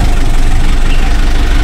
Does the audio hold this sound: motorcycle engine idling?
yes